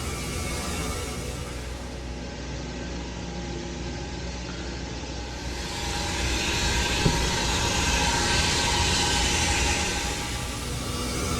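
Continuous heavy rumble of a train rolling along inside a glass factory, swelling louder in the second half, with a brief metallic clank near the end.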